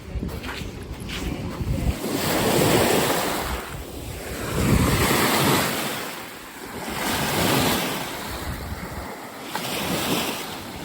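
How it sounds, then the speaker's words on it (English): Waves meet and break at the tip of Point Pelee, surging in broad, repeated swells with steady wind buffeting the microphone, loud and close along the shore. "you've got waves coming in from the right and waves coming in from the left, and they just converge in on each other"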